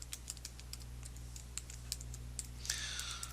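Typing an email address on a computer keyboard while placing an online order for a large cheese pizza: a run of light, irregular key clicks, fairly close, over a steady low hum, with a brighter clatter near the end.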